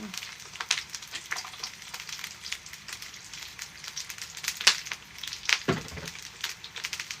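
Eggplant fries in hot oil in a pan, giving a steady crackling sizzle with scattered louder pops throughout, close by and alone without talk.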